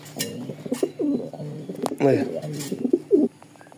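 Racer pigeons at a club auction sale coo softly and repeatedly nearby while someone talks over them.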